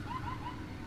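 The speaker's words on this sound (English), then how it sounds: "I'm gonna turn off the alarm." An alarm in the zombie game Dead Island sounds as a short warbling electronic tone repeated in quick pulses over a low background rumble.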